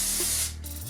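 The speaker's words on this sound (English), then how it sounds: "I'm gonna spray some Oil Sheen on my hair." A short burst of Cantu Oil Sheen aerosol spray onto hair hisses loudly for about half a second, then cuts off abruptly.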